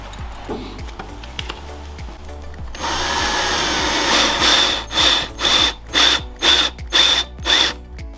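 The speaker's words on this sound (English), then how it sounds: "I have to drill a little recess in here to allow those screws to go into that siding" A power drill whirs in several short, loud bursts close by, drilling a recess into house siding, each spin starting and stopping in a steady rhythm.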